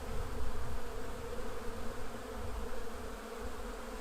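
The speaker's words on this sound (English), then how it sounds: "bees on there" Honeybees crowd a hive frame from a colony with laying workers, giving a thick, even drone close up that holds steady for several seconds with no voices.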